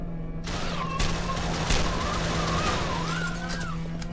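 Shotgun blasts in the horror game Parkside: Decayed Soul Manipulation, several loud, close booming shots spaced irregularly over a droning background tone and warbling ambient sound.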